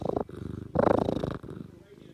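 A female cat perched on someone's shoulder purrs loudly and close up, in two strong rhythmic bursts with a short pause between them.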